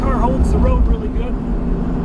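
A 1970 Plymouth Cuda AAR with numbers-matching engine, transmission and 8 3/4 rear cruises along a road at about 55 mph, its steady low engine and road rumble filling the cabin as someone talks over it.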